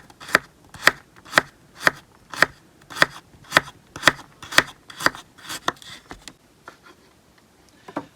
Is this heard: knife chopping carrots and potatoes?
yes